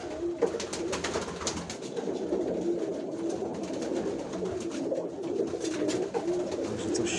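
Pigeons coo in a steady, overlapping chorus close by, with soft throaty calls repeating throughout and no talking.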